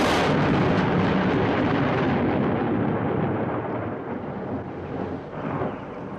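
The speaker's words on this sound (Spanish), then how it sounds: "Durante el mes de agosto son frecuentes las tormentas, los aguaceros." Thunder from an August storm rolls on continuously, a loud, deep rumble that slowly fades, with rain-like hiss underneath and no speech.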